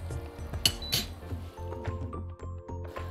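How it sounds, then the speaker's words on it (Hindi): Grated jaggery is added to a pan and stirred in, with a spoon clinking and tapping against the metal in quick, irregular strikes, close by and with no talking. "तो अब इसको मिलाते हुए इसमें हम डाल देंगे ये गुड़ जिसको मैंने ग्रेट करके रखा है।"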